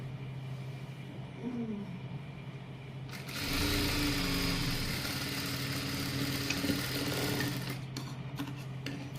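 An electric sewing machine stitches a salwar pant seam, starting after a quieter stretch of room hum and running as a fast, steady mechanical whirr, close and loud, with a brief pause near the end.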